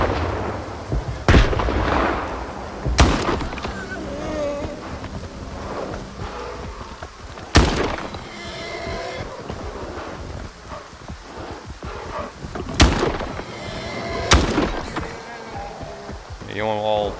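Grenade blasts in Stalker 2's Garbage Zone: several sharp, heavy explosions crack out at irregular intervals over a busy bed of game ambience and a voice talking throughout.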